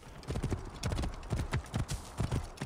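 A horse's hooves clip-clop in a steady trotting rhythm in the Assassin's Creed Origins video game, close and clear with little else around.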